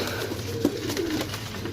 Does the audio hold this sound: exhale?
no